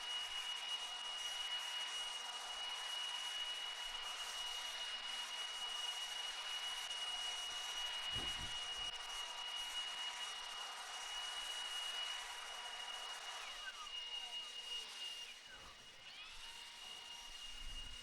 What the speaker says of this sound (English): Marsh, going to grab those blowers. They're blowing off your areas